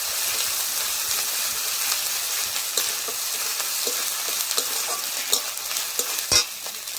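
Garlic, onion and ginger paste sizzles steadily in a hot pan for a chicken curry, a dense continuous frying hiss broken by occasional scraping stirs and a louder clack near the end.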